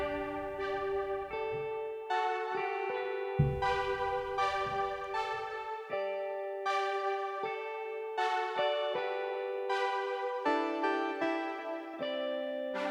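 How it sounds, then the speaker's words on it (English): Bright, layered synth tones play a steady melodic sequence of plucked, harmonically rich notes with echoing tails, heard on their own with no voices over them. "in the second half of this song, the synths come in, and they sound like this."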